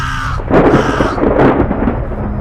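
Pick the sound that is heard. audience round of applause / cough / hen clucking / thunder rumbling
thunder rumbling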